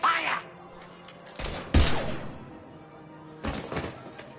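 Gunfire in the video game Mass Effect Legendary Edition comes as a few separate heavy bursts of shots and thumps, loud and close, with quieter gaps between them and no speech over the shots.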